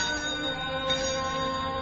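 An old widow bell from a collector's hoard rings with a steady, sustained metallic tone full of layered overtones. It hums evenly and alone at moderate volume, without distinct separate strikes.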